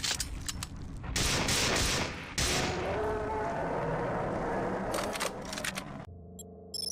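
Rapid gunfire from a video game weapon rattles in sustained loud bursts with short breaks, the shots dense and continuous and close up, ending in a sudden cutoff.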